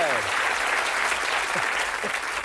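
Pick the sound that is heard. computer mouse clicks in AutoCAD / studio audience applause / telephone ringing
studio audience applause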